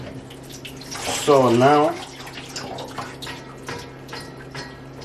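Vegetables for kimchi rinsed under a running tap, a steady close splash of water with handling noises, while a voice speaks briefly over it.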